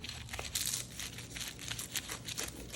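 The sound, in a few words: pizza cutter slicing through crispy layered apple pie baklava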